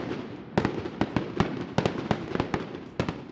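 A fireworks display at the Kentucky Derby Festival in Louisville, with a rapid irregular string of sharp bangs and crackles over a continuous rumbling wash.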